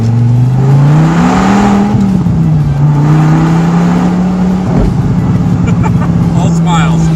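A Dodge Viper sports car revs on a downshift on a freeway on-ramp, its deep engine note rising and falling sharply and then settling into a loud steady drone heard from inside the car, with a voice speaking briefly over it.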